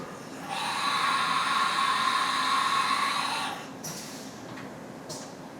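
A Haas Mini Mill CNC machine running a tool change, with a steady whirring mechanical hum for about three seconds, then a sharp clack and a softer mechanical knock as the cycle finishes.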